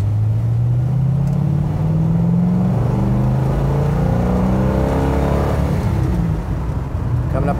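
A 1967 Mustang 390 GT Fastback with its V8 climbing to highway speed, a loud steady engine drone rising in pitch through the gears, heard close from inside the car.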